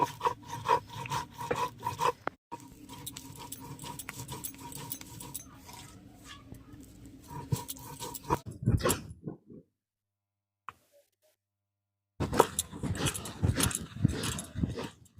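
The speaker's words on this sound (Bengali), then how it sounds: "তো চালটা এখন আমি বেটে নেব।" Rice being ground into a fine batter for a breakfast dish, a rough rhythmic rubbing and scraping that runs steadily, pauses into near silence, then resumes loudly.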